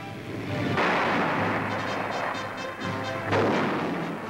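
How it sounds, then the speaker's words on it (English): A 75mm cannon fitted to a B-25 bomber fires in heavy booming blasts, two main reports over a rough wartime background roar. "B-25 bombers equipped with 75mm cannon"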